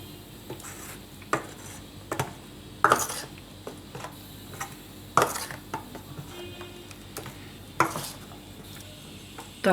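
Spice paste being mixed with water in a bowl, heard as a run of sharp, close clinks and scrapes of a spoon against the bowl coming in irregular bursts, with no talking.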